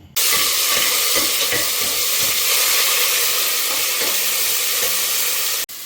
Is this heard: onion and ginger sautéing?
yes